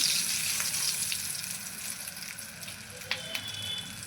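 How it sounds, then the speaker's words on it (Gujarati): Bread pakoda sizzles as it fries in hot oil, a soft, steady crackle heard close up, with a couple of faint clinks near the end. "જો આવી રીતે સરસ રીતે તળી લેવાનો કલર બદલાય ત્યાં સુધી"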